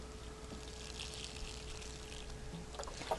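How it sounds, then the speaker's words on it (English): A watering can pours a steady stream of water onto the roots of freshly potted vegetable starts, a continuous close splashing wash with no talking. "I take my watering can, because you got to make sure you water those roots down so they get established"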